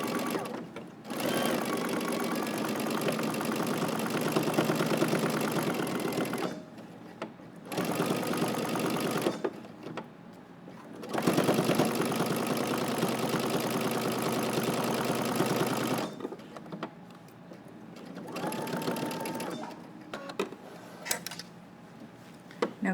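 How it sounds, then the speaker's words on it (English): A sewing machine runs in long steady bursts while stitching a dart with back stitching on a jacket, stopping and restarting several times, loud and close with no talk. "I'm going to start in the center, I'm going to back stitch."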